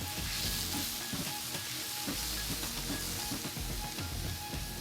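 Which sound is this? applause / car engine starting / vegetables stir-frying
vegetables stir-frying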